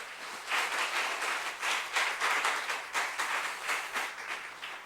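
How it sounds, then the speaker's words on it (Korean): Church congregation at a Korean Sunday afternoon service applauding to welcome a pastor: sustained dense clapping from a crowd, steady and even throughout, heard at moderate distance with no talking over it. "우리 목사님 나오실 때 박수로 여러분 맞이해 주시면 감사하겠습니다."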